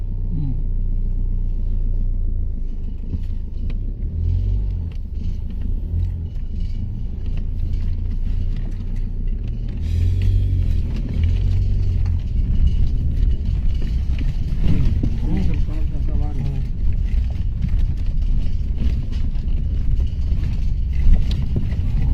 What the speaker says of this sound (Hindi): बहुत सारी गाड़ी